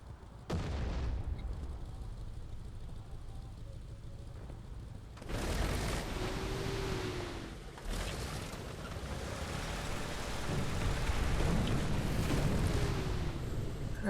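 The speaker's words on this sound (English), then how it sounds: "He's calling artillery down." In the War Thunder tank game, artillery strike explosions land as several heavy booms, one sharp blast early and more about five and eight seconds in, over a constant rumbling battlefield background.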